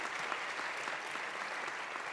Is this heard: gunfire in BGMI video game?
no